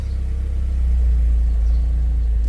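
Mazda car with an FZ transmission idling as it is shifted into reverse, a low steady engine rumble with a slight pulsing throb, close and continuous.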